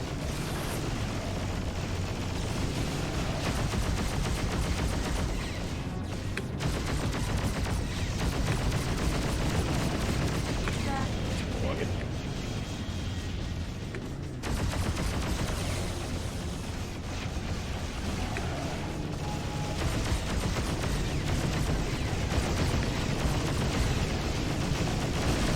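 Dense, continuous gunfire and explosions in a space combat battle in the video game Freelancer roar for the whole stretch, loud and unbroken, with no voices heard.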